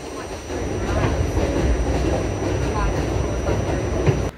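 A New York subway D train near 9th Avenue rumbles and clatters loudly up close, steady rolling rail noise with a faint high whine over it and a brief squeal near the end.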